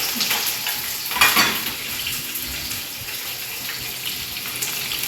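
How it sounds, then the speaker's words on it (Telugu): Onion, green chilies and curry leaves fry in a pan, giving a continuous close sizzle and crackle with a brief stirring scrape, steady throughout with no talk. "ఆనియన్, సో పచ్చిమిరపకాయ, ఇది కొంచెం దోరగా వేసుకుంటాను అన్నమాట. ఓకే, కొంచెం కరివేపాకు"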